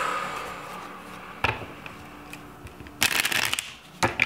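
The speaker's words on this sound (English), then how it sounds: "I just want to pull some cards." Tarot cards are shuffled in a few separate bursts of soft riffling and slapping, close and quiet, with short pauses between shuffles and no talking.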